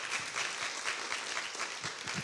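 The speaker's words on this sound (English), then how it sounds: "if we can have the audience thank with an applause to our panelists" Audience applause for the panelists closing a design lecture panel in Auckland, a steady, fairly quiet wash of many hands clapping throughout.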